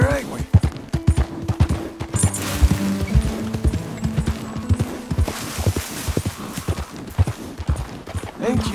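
Horse hooves clip-clop steadily in Red Dead Redemption 2, a mare walking at an even pace with close, distinct hoofbeats under intermittent talk and game ambience.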